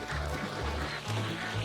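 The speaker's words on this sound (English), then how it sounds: "We're surrounded by birds right now." Birds in a video game give repeated low, honking, duck-like calls in short bursts against a steady background, fairly close and moderately loud.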